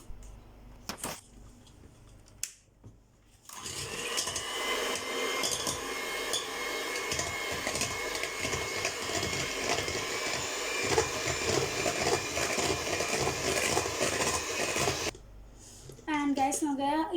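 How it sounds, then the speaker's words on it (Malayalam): An electric mixer beats egg whites for a dream cake, a loud, steady, close whirring that runs for about twelve seconds. Quieter knocks and handling sounds come before and after it. "നമ്മൾ എഗ് വൈറ്റ് ഒന്ന് ബീറ്റ് ചെയ്തെടുക്കണം."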